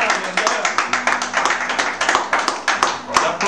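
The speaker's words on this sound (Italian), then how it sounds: "L'applauso all'autore, all'autore della melodia." Audience clapping for the author of a melody, loud and close, the hand claps falling into a steady rhythmic beat rather than a scattered ovation.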